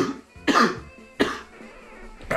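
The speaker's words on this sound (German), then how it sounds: "Achtung, ich muss husten." A person coughs three times, sharp and close to the mic, with short pauses in between and no speech.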